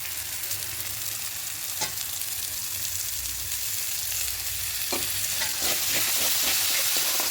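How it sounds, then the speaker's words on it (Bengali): Spices with Kashmiri chilli powder and whisked curd sautéing in a pan for a potato and pea curry, a continuous dense sizzle with occasional scrapes and clinks of a spatula stirring, close and steady. "খুব ভালো করে সব কিছু কষিয়ে নেব করে কষিয়ে নিচ্ছি"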